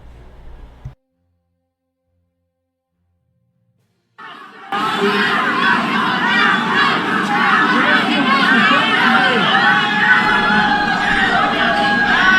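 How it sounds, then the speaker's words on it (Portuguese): A large political crowd in Brazil chants "ladrão" (thief) in unison, a loud, continuous roar of many voices with shouting and cheering. It begins abruptly after a short quiet stretch and keeps going steadily to the end. "no fundo o pessoal está gritando ladrão, ladrão, ladrão"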